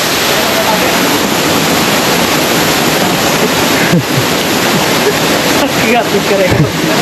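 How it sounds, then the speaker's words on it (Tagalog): A hidden waterfall in the countryside roars as a steady, loud broadband rush of falling water, continuous throughout, with people talking faintly over it. "Waterfalls."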